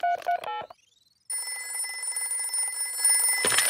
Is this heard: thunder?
no